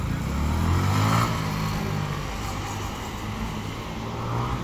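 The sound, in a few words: motorbike passing by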